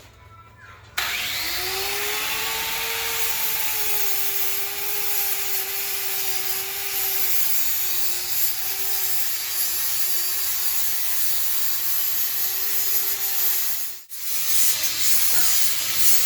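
Cut frame tubes on a Yamaha XS650 chopper, being fitted with a TC Bros hardtail kit, are smoothed with a power tool. It makes a loud, close, steady whining grind that runs unbroken for about thirteen seconds, then stops briefly and resumes.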